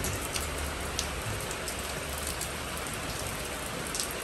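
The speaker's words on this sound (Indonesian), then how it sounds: "Hujan ya." Steady, close rain pours down in a dense, even hiss that never lets up, with no voices over it.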